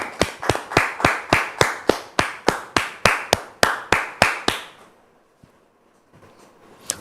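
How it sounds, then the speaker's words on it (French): A studio audience welcomes a guest named Dame Gisèle with sharp, evenly spaced claps, about fifteen in a steady rhythm, near and crisp, then stopping abruptly into near quiet with a couple of faint taps. "Merci de recevoir Dame Gisèle sous vos applaudissements."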